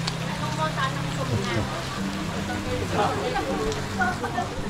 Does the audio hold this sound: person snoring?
no